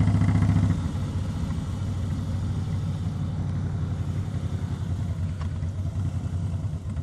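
A Harley-Davidson motorcycle engine on a ride, its loud, continuous low rumble throbbing steadily close by with wind noise, slightly louder at the very start.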